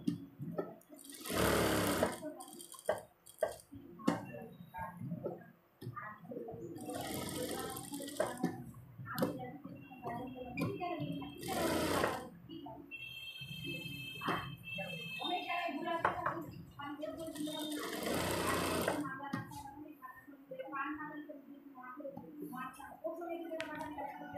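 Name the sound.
sewing machine stitching a neck design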